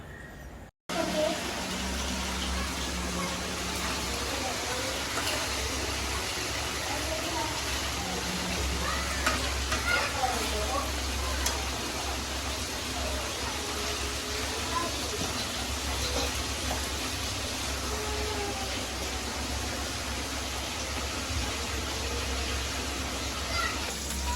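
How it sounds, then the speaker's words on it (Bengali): A vegetable bhaji fries in a pan and is stirred and turned over and over, giving a steady, continuous sizzle with faint scraping that runs close up and unbroken throughout. "সে ভাজি ভাজিতেছে উল্টাইয়া পাল্টাইয়া"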